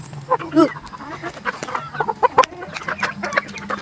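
Roosters and a hen clucking and calling at morning feeding time, several birds close by with short overlapping clucks and squawks in an uneven chatter.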